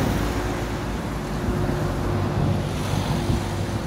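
Waves wash against the shore of a lake in Switzerland, a continuous, fairly loud surging roar mixed with gusty wind rumbling across the microphone, with no one speaking.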